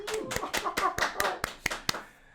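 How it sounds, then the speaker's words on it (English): Hand claps welcoming a podcast guest, about nine sharp, separate claps in a loose quick rhythm, close and dry, sounding like just one or a few people rather than a large crowd, then fading to quiet. "Give him a round of applause."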